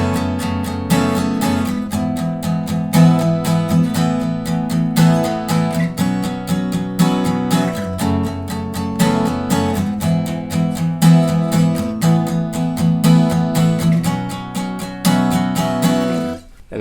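An acoustic guitar strums the bridge chords of a song with a steady, accented strumming pattern, bright and close, played alone for about seventeen seconds.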